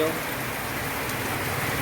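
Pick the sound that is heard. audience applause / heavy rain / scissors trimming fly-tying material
heavy rain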